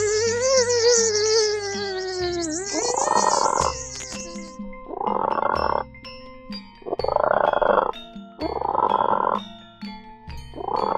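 Loud, close frog croaks in a children's story about a greedy frog that swells up with rage, coming in five rhythmic bursts, each about a second long, after a stretch of warbling tonal music.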